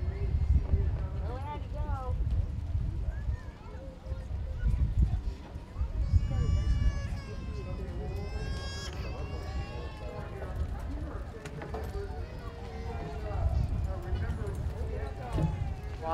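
Horses loping in a western class at a 4-H county fair arena, hooves clip-clopping in a steady rolling rhythm on the ground, mixed with a voice talking over a loudspeaker and background crowd noise.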